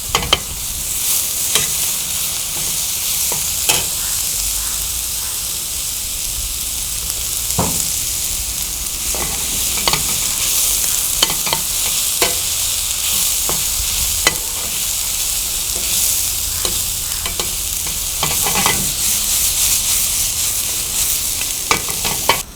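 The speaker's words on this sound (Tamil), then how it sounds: "இப்படி வெங்காயம் வதங்கும் போது ஒரு பிஞ்சு சால்ட் ஆட் பண்ணிங்கன்னா அந்த வெங்காயம் வதங்கிறது கொஞ்சம் குயிக்காக ஆகும்" Sliced onions sautéing in a pan with a pinch of salt for mutton sukka, a steady loud sizzle with frequent scraping stirs throughout, close up and alone.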